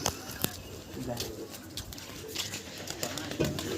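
Pigeons coo softly nearby while a few sharp flutters or claps break in, with people talking in the background.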